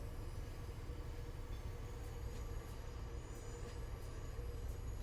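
An MBTA commuter locomotive in Train Sim World 5 runs with a low, steady rumble of engine and rolling wheels, faint and continuous with light rhythmic clicks of rail joints.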